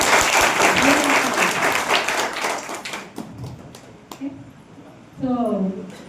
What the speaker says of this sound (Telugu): ఇంకా కొంచెం గట్టిగా చప్పట్లు కొడితే ఏమవుతుంది